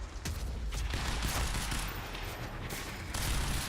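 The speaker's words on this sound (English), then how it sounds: "Let me pepper you with bullets." Gunfire in the video game Quantum Break, a loud, steady stream of rapid shots and impacts running through the whole stretch with dense, continuous game noise and no pause.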